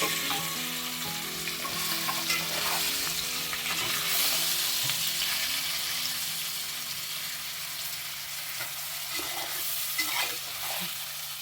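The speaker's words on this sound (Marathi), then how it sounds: "तेलावर मसाल्यांना आणि सुरमईला थोडं परतून घ्यायचं आहे" Surmai fish pieces and masala fry in oil in a cooking pot, giving a steady, moderately loud sizzle throughout. Gentle stirring scrapes join in now and then, and nobody talks.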